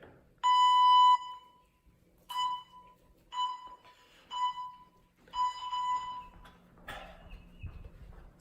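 A basic digital workout timer beeping, with one long clear tone followed by a series of shorter, evenly spaced electronic beeps at about one per second. The beeps sound close and bright over a quiet room.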